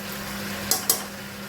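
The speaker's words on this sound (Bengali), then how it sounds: "এই যে রসুন বাটা এই 1 চামচ, এই আধা চামচ মতো অ্যাড করে দিচ্ছি" Garlic paste goes into a cooking pan with two quick scraping clinks, one just after the other, over a faint low sizzle and hum. No one speaks.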